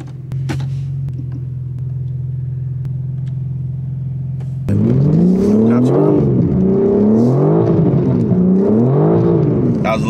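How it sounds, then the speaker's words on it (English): A BMW M4 idling with a low steady hum, then the engine roars up loudly into a third gear slide, its pitch repeatedly rising and falling as the revs swing, with voices talking over it. "Third gear slide."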